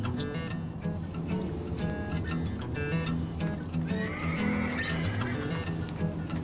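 A horse whinnies loudly, its high wavering neigh rising over a busy background of other animal sounds and low rumble.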